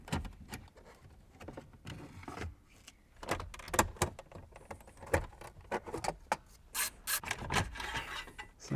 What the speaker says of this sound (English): We need to remove this entire trim here.